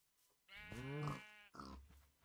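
Pigs on a Minecraft farm make a short run of nasal, bleating grunts, close and fairly clear, with a brief pause before a lower final grunt.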